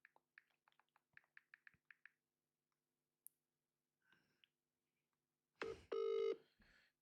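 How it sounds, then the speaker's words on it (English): A telephone being dialed during a live football watch-along stream: a quick run of keypad tones, a pause, then a louder burst of ringing tones close to the microphone. "Let me phone a friend for help."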